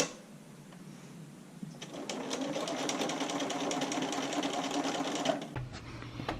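A sewing machine understitches bra lining fabric, its steady fast needle hum running close and loud for several seconds after a short start, then stopping abruptly.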